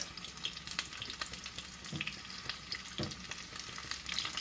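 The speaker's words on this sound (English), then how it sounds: "see how fast they fry up" Shredded beef taquitos fry in hot oil with a steady, bright sizzle and a few sharper crackles and pops, close by and constant throughout, with no voices.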